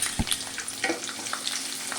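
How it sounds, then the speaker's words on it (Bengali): Ginger, garlic, green chilli and onion fry lightly in hot oil for a paneer masala, giving a close, steady crackling sizzle with a few sharper pops and stirring scrapes over two seconds. "ওই তেলের মধ্যেই দিয়ে দেব আদা, রসুন, কাঁচা লঙ্কা, পেঁয়াজ। এগুলো কিন্তু আমি হালকা করে ভেজে নেব"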